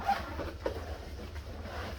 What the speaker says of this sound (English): Zipper doesn't feel too great